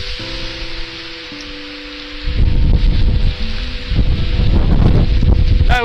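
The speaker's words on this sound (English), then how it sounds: "I checked the weather, I knew it was going to be windy." Wind gusting across open hillside in the Pentland Hills in February, starting with a quieter hum and then rising into strong, close buffeting against the microphone for the rest of the clip.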